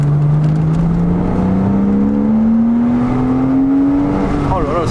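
A naturally aspirated Porsche engine heard from inside the car climbs in pitch as it revs under steady acceleration, loud and continuous, with voices talking over it.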